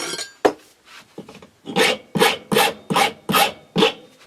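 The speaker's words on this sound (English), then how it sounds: "take your file, round it off" A metal file rasps against a nail being shaped into a pressure flaker for flintknapping: a few tentative scrapes, then six or seven strong, evenly spaced back-and-forth strokes, loud and close.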